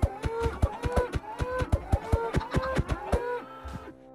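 Cows in the Minecraft Tekxit modpack moo over and over in a rapid, overlapping run of loud, close calls, with a short quieter tail at the end.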